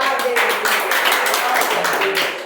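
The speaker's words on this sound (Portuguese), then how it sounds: "Dê uma salva de palmas ao Senhor." A church congregation gives a dense, sustained round of applause, many hands together up close, with voices calling out over it.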